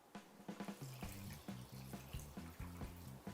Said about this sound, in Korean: 물 1리터를 부어줍니다.